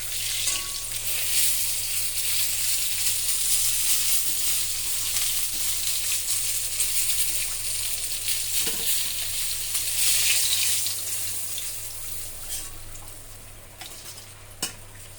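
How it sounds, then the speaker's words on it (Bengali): Pieces of bhola fish fry in hot oil with a steady, dense sizzle that fills the whole stretch, close and even, broken by a few faint clinks of a utensil against the pan. "এবার এটাকে ভাজতে কিছুক্ষণ রেখে দেব"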